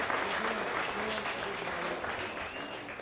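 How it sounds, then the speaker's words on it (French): A live audience applauding a performer on a stage show, a dense, even wash of clapping heard fairly close throughout, with some voices mixed in. "Une main d'applaudissement pour Al Drapeau."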